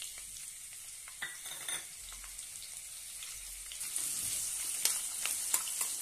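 Sliced onion sautéing in oil, soft sizzle with intermittent stirring scrapes that swells into a louder, denser frying hiss in the second half.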